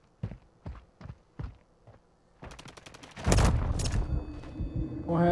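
Gunfire in Call of Duty Modern Warfare III on the Rust map: sparse single shots, then a rapid burst of automatic fire followed by louder blasts and scattered impacts, with no talking.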